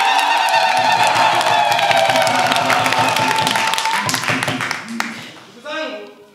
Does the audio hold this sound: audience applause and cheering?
yes